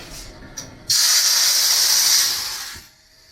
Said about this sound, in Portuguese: Acionando para criar o vapor.